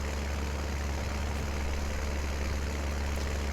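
A small tractor in the video game Farming Simulator 19 labours uphill, its engine a steady, low, droning rumble that holds constant throughout with no talk.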